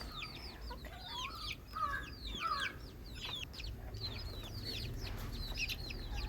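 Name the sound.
chickens clucking in the coop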